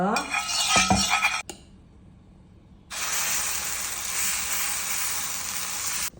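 Coconut oil heating in a pan for whole moong dosa, with a few clinks of a utensil first, a short pause, then a steady close sizzle that holds to the end.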